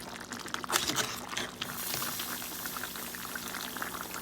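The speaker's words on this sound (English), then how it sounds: "And let it boil" Water boils in a pot with steady bubbling and hissing, plus a brief splash or pour early on, close and moderately loud.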